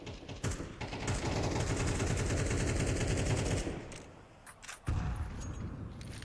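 Rapid automatic gunfire rattles through a Counter-Strike match on the Vertigo map, a sustained burst of close shots for several seconds that breaks off, followed by a few more scattered reports.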